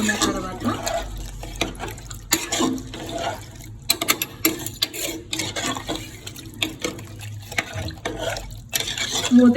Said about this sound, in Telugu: వాటర్ ఇంకా కొంచెం వేసుకుందాం.